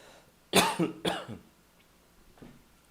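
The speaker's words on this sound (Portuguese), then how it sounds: "Permita uma tosse." Two sharp coughs close to the microphone, a quick double burst, followed by a fainter throaty sound a moment later in an otherwise quiet room.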